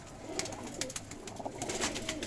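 Golden pigeons cooing close by, soft repeated low coos overlapping with a few sharper flutters and calls, no talk.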